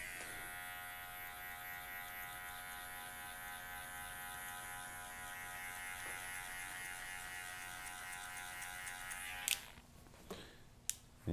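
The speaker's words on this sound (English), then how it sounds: "Once you finish with the clipper being open, now I'm going to close it halfway." An electric hair clipper hums steadily at close range while trimming a comb-over fade with a hard part, a continuous buzzing drone that stops near the end, leaving light clicks and handling noises.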